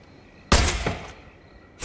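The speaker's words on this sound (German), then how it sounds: "Ho, das war ein Schuss." A loud, sharp gunshot in Far Cry 5 bursts out and rings briefly, followed by a second shot starting at the very end.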